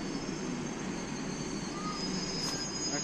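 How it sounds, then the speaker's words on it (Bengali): An empty East-West Metro rake at the airport terminal station gives off a steady, faint rumble and hum from a fixed distance, with a thin high squeal running through it. "ইস্ট ওয়েস্ট মেট্রোয়ে চলা একটা রেক"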